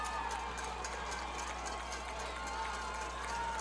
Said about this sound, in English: This Blazer crowd making some noise.